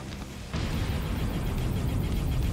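Cannon fire in a car combat shooting video game: a sudden loud blast that settles into a sustained, dense roar of game noise, with no talking over it.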